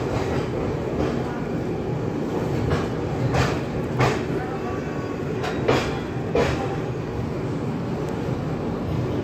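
A passenger train on the Howrah to Raipur route runs steadily, a continuous low rumble and rattle of the carriages with a few brief squeaks and knocks from the wheels, heard from inside the train.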